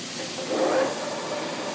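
An 18-inch by 102-inch Lodge & Shipley engine lathe running at a newly selected speed gives a steady, close mechanical hum that swells briefly in the middle before settling back.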